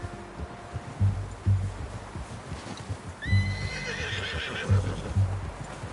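A horse in Red Dead Redemption 2 whinnies loudly in the middle while hooves clop in a steady, plodding rhythm close by, with faint rustling underneath.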